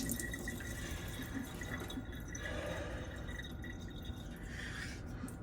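Steady rush of running tap water over a coticule sharpening stone, a continuous close splashing hiss with no pauses.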